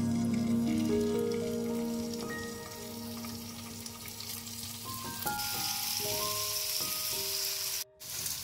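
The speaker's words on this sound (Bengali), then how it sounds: "আর আমি এখানে 250 গ্রাম পনির নিয়েছি, এটাকে আমি ভেজে নিচ্ছি।" 250 grams of paneer fry in hot olive oil in a pan, giving a steady, close sizzle that runs the whole time beneath soft background music, with a brief dropout near the end.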